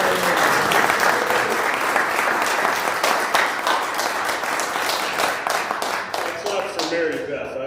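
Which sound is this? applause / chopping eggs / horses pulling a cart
applause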